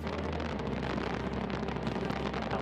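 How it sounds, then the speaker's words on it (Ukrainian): Antares rocket launch roar, a loud, steady broadband rumble with wind-like noise that fills the whole stretch without a break. "Кілька яскравих і голосних секунд ракета вже в небі."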